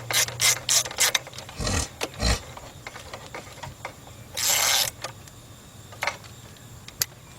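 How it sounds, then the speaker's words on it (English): A ratchet clicks in short bursts while tightening a bolt during a timing belt and water pump job on a Kia Sorento or Hyundai Santa Fe V6, with several quick, close ratcheting runs separated by pauses. "go ahead and tighten that bolt up."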